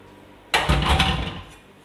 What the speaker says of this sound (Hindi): इसमें थोड़ा सा पानी डाल के